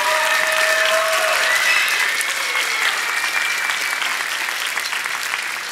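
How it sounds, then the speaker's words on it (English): Sustained audience applause at a middle school spring band concert, dense and steady throughout, with a few whoops rising above the clapping. "can we give her a huge round of applause"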